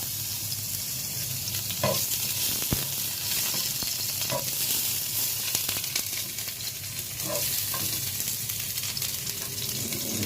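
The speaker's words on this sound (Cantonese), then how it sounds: "放料頭落去，爆一爆。" Aromatics sizzle in hot oil in a wok as they are stir-fried, a dense, steady hiss at close range with a few sharp clicks of utensil against metal and no talk.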